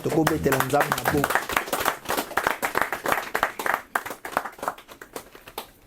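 A church congregation claps and applauds to acclaim the Lord, a lively burst of hand claps mixed with cheering voices, thinning into scattered clapping as it goes on.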